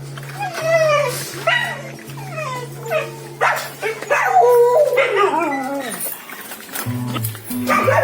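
Dogs barking, yipping and whimpering together in a shelter's main kennel, a loud, busy chorus of overlapping yelps and howl-like calls over a steady mechanical hum, with speech partly mixed in.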